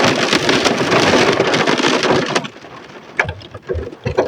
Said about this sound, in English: The weather said it's no rain, but there's rain.